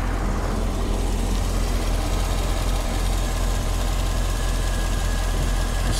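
A car at a Copart salvage auction yard idles quietly and smoothly, a steady low hum with no revving and no voices, heard close up with the hood open.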